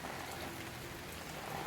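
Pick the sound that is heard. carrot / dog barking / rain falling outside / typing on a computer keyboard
rain falling outside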